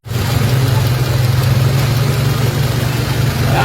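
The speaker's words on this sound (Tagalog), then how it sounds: "nakita nyo umandar agad yung engine sa pamamagitan ng pagdugtong natin ng panibagong wire" A Toyota RAV4 engine running steadily after a wiring repair, a loud continuous mid-low hum that kicks in abruptly at the start and holds without talk.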